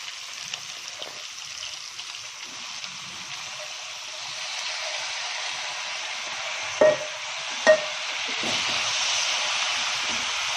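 Spinach cooking with chicken frying in a pan: a soft, steady hiss of sizzling close by, with two brief sharp clinks of a utensil against the pan partway through, and no talking.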